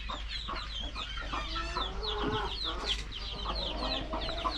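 Many chickens cluck and chatter continuously nearby in a village, overlapping calls forming a busy barnyard din over a low steady hum.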